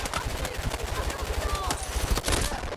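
Rapid automatic fire from the BROD 3 weapon in Battlefield 6, a loud, dense, continuous rattle of shots filling the whole stretch, with other game sounds mixed underneath.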